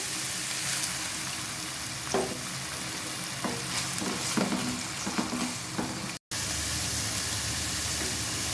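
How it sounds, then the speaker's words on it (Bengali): Chicken fries in a pan with a steady, loud sizzle and occasional scraping stirs; the sound briefly cuts out near the end. "মাংস সিদ্ধ হয়ে ভাজা হয়ে গিয়েছে।"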